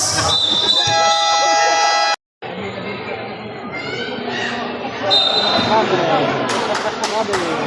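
A loud electronic game buzzer blares over crowd chatter and a commentator's voice in a busy gym during a basketball game, with sneaker squeaks and ball bounces around it.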